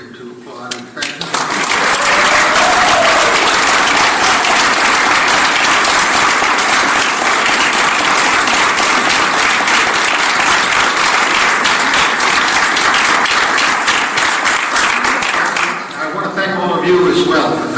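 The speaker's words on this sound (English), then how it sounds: "Now it's appropriate to applaud and thank you." An audience applauds steadily and loudly for about fifteen seconds at the close of a Senate candidate forum, the clapping fading near the end as someone begins talking.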